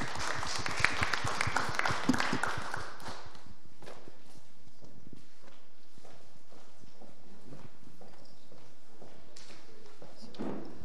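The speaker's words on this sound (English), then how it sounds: "Please applause for Stefano for coming here and taking your time" Scattered applause from an audience rises briefly then thins out over a few seconds, leaving quiet room noise with occasional faint taps.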